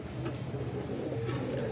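A Golden Bajra pigeon coos softly in low, steady murmurs for a couple of seconds at close range, with faint background noise and no talking.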